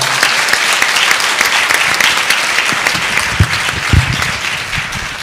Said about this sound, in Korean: 여러분 박수 좀 보내주시죠